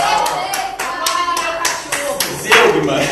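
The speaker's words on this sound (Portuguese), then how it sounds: "palmas para lá" Students in a Portuguese literature class clap their hands: a short burst of sharp, irregular claps from several people close by, with a faint voice underneath.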